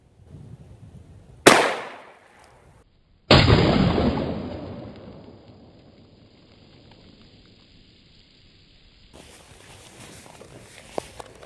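A 9mm handgun fires point blank into a plastic 16.9-ounce bottle, shown in slow motion: a sharp loud crack, then a second, longer burst that fades slowly, followed by quiet rustling.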